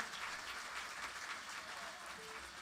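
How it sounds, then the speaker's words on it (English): Audience applause for Miss Dixie Hall at a bluegrass festival stage show, a steady wash of clapping throughout, fairly soft and distant, with faint voices mixed in. "Give her a great big round of applause"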